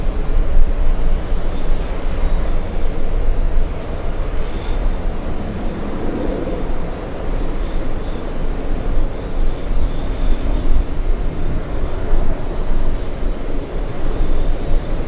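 A Lufthansa airliner lands at JFK airport, heard as a loud, continuous low rumble of jet engines and rolling noise that swells and fades slightly throughout.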